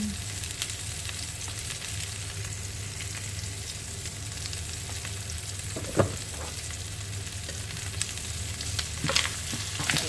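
Spices, black pepper and black lemon sizzle steadily in hot oil in a pan, with a continuous close frying hiss and occasional clinks of stirring.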